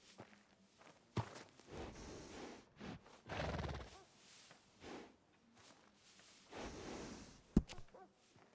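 Horse from Red Dead Redemption 2, a western video game, neighing and whinnying with clip-clopping hoof steps and snorts, several loud bursts spread over a stable scene with no talk.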